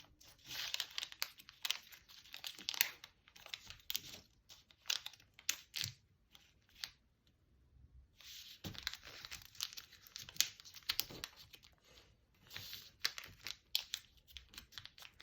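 Paper being folded and creased for a paper blade origami sword, with repeated crinkling and rustling close by, short bursts separated by a brief quiet pause midway.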